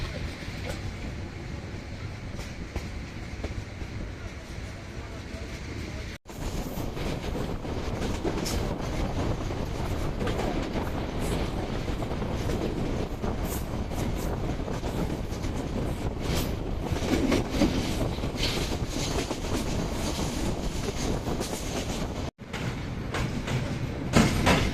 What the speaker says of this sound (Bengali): বামনডাঙ্গা রেলওয়ে স্টেশন থেকে লালমনি এক্সপ্রেস ট্রেনটি গাইবান্ধার উদ্দেশ্যে রওনা হয়ে গেল